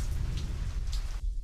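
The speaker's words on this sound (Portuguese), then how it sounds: "Chovendo sangue no cemitério." Steady rain pours across a graveyard in a horror video game, a dense close hiss of falling drops that cuts out abruptly near the end before returning.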